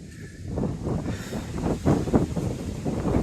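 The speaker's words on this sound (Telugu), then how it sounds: "గాలి అయితే వేస్తుంది, మామూలు కాదు" Strong wind gusting across an open hilltop, roaring and buffeting the microphone in steady, loud surges with no voices over it.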